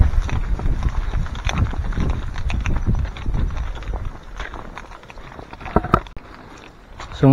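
Steady, rhythmic footsteps squelch down a wet, slightly muddy hillside trail after rain near Sulfatara in Cabintan, Ormoc, Leyte, with faint voices now and then.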